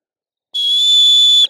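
A dog-training whistle sounds one long, loud, steady blast of about a second, used as the signal for the dog to lie down.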